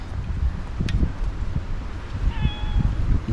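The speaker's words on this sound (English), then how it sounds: "Get out, kitty." A cat gives a single short meow beside an equipment trailer being repaired outdoors, clear over a steady background of wind and rustling.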